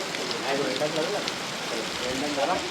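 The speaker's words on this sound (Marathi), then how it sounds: "मस्त की पाऊस पडलाय जबरदस्त" Rain falling at a farmhouse in Badlapur surrounded by greenery, a soft steady patter on surfaces under light background chatter.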